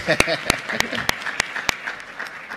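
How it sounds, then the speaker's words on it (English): A handful of sharp, evenly spaced claps ring out at a youth volunteerism gathering in Africa, loud and close over a low murmur of voices. "give a round of applause"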